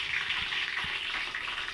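Finely chopped garlic frying in a pan, a soft continuous sizzle with faint stirring, heard close up and alone.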